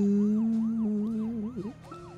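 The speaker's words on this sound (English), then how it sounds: "just the sirens are more soothing than I" Police sirens wail in the video game Deadly Premonition: The Director's Cut, with a repeating rising-and-falling cycle over a steady low drone, fairly loud and close with no voices.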